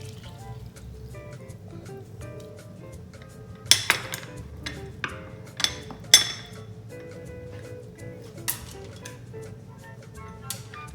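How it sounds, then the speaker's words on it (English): Sugar and lemon are stirred into apple crumble filling in a bowl, with a spoon clinking against the side in scattered sharp taps over soft wet mixing sounds, close by. "So we have to mix add our lemon here"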